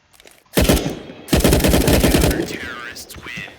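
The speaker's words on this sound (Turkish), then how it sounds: "Milyonla kırk kere ateş ediyor." Loud, rapid automatic gunfire in CS:GO in two long bursts, dense rattling shots close up, then fading ringing tones.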